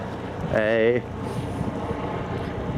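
A distant helicopter drones steadily overhead in the background while people talk, and a brief tonal call rises over the hum early on.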